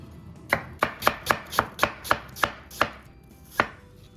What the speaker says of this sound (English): Now, just cut it into nice thin slices, right?